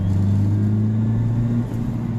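A Renault Mégane 2 RS engine runs steadily nearby, a deep, even rumbling hum with no voices, dipping slightly near the end.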